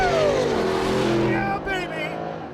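Race car with carbon ceramic brakes accelerating hard out of a corner, the engine note rising and winding up loudly, then easing off and falling away toward the end.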